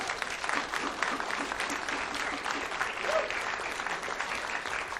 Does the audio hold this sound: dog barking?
no